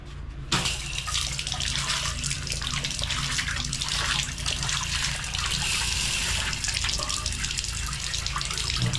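Tap water gushes strongly and steadily into a restroom sink or basin during cleaning, a loud continuous splashing rush that holds for the whole stretch with no voices over it.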